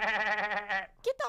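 A cartoon voice imitates a sheep, giving a wavering, quavering bleat for most of a second, followed by a couple of short vocal bursts.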